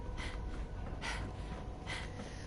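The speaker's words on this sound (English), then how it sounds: "I know I keep panting." A person panting and out of breath, three heavy breathy exhalations spaced about a second apart, faint and close with no words spoken.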